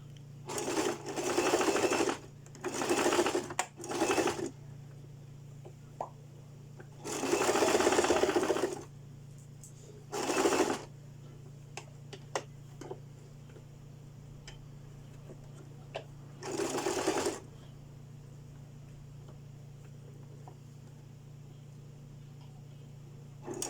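A sewing machine stitches the second shoulder seam of a bodice in several short bursts of rapid whirring. Quiet pauses between them carry faint clicks and a low background hum.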